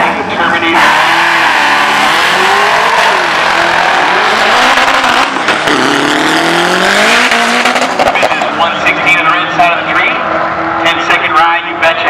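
A 2003 Mustang Cobra making a drag racing run, its loud engine roaring steadily with rising and falling pitch sweeps as it shifts through gears, with an announcer talking over the noise throughout.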